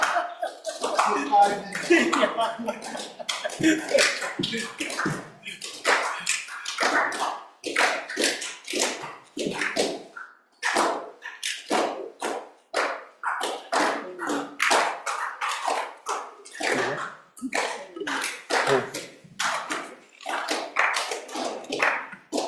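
Applause in a senate chamber, irregular bursts of hand clapping and tapping that swell and break off repeatedly over about twenty seconds, with scattered voices and coughs mixed in.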